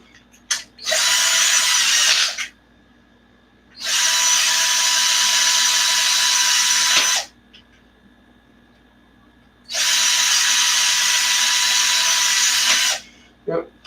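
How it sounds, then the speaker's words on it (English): A power drill drives a screw through an Arrma Notorious RC car suspension part, with three separate high-pitched whirring runs of a few seconds each and quiet pauses between them, close and loud. "We'll just throw a screw straight through it."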